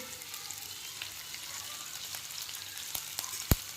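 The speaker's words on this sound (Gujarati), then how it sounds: "થોડા સોતે થવા દેવાનું છે આ રીતે।" Paste for a vada pav filling sautéing in a hot pan, giving a soft, steady sizzle with faint stirring and one sharp clink near the end.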